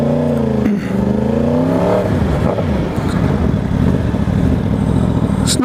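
A 2020 Yamaha R1 sportbike fitted with a 15-tooth front sprocket pulls hard, its engine note climbing through a quick rev sweep before settling into a rough, loud mechanical roar close by.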